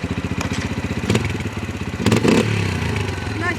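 A dirt bike with its stock exhaust starts on the first try and settles into a fast, steady, close engine putter, with a couple of louder revs and some mechanical clatter, and no talking.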